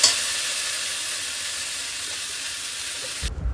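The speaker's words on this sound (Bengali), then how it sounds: "আর এবারে মশলা সহ ভেজে নিচ্ছি" Taro pieces fry with spices and turmeric in a pan, giving a continuous bright hissing sizzle, close and steady, cut off abruptly near the end by a low thump.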